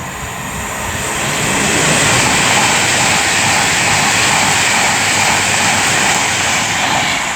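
A Class 390 electric express train passing at speed through Tamworth on the West Coast Main Line, a loud, steady roar and rush of wheels swelling within a second and holding close and constant to the end.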